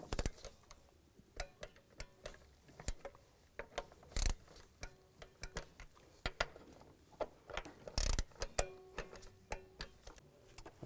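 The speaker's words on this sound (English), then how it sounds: "Now you can torque those bolts to 89 inch-pounds." Torque wrench tightening bolts to 89 inch-pounds during a timing chain replacement on a 2002-2009 Chevy Trailblazer: repeated ratcheting clicks in quick bursts with a few sharper metallic snaps, close and distinct.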